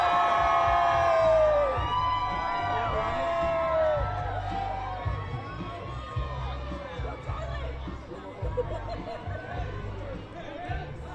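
A crowd cheers, whoops and shouts as King Charles waves in Front Royal, Virginia, a busy outdoor roar of many voices that is loud at first and then eases into scattered yells and chatter.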